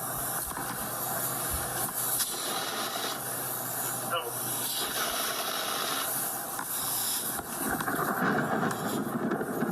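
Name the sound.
fire extinguisher spraying on a flaring fire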